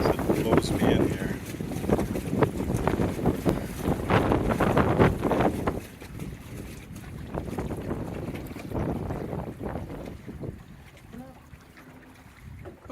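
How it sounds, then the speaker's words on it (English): Strong wind of 30 to 40 mph roars and gusts across a small sailboat, a John Welsford Navigator in Duluth Harbor, with loud microphone buffeting and water noise throughout, strongest early, then easing somewhat. "that turned quickly into a 30 to 40 mile an hour wind out there"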